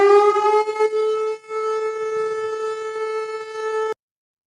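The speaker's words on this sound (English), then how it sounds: "How loud was the siren?" A tornado civil defense siren wails in a steady, loud, sustained tone with rich harmonics and a brief dip midway, then cuts off abruptly after about four seconds; no voices.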